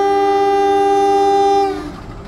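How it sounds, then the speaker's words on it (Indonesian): Long, loud horn blast from the Matarmaja passenger train departing track 1 at Pekalongan station, a steady harmonic tone held for nearly two seconds before cutting off into low rail rumble. "Diberangkatkan dari jalur 1 stasiun Pekalongan, kereta api Matarmaja."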